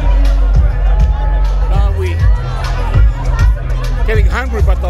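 Busy crowd chatter at the Homegrown 2024 music festival in Wellington, a dense, loud babble of many voices all around, with one nearby voice speaking briefly over it.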